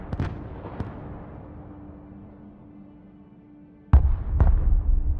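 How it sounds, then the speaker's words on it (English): Enemy artillery volleys in the modern warfare game Broken Arrow: a few sharp booms with a long decaying rumble, a steady hum, then a heavier cluster of loud blasts near the end. "Their artillery fires volley after volley without repositioning."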